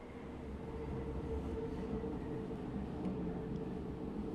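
A tiny two-car subway train in the Subway Sim 2 game keeps up a steady low rumble and drone of wheels and motors, even and moderately quiet throughout.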